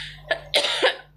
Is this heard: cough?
yes